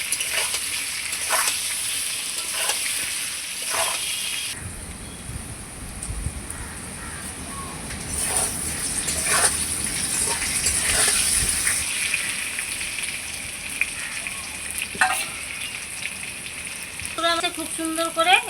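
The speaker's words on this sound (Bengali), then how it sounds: "আমি তেলের উপরে আলুটাকে খুব সুন্দর একটু লাল লাল করে ভেজে নিলাম" Potato pieces frying in hot oil with turmeric and salt for a catfish curry give a steady close sizzle with bubbling and a few stirring scrapes that runs throughout, flaring louder midway.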